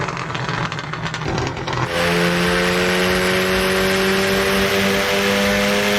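A Volkswagen Golf R in Assetto Corsa revving hard, loud and close, first a rough accelerating roar and then a sustained high, steady engine whine held at high revs, with no talk over it.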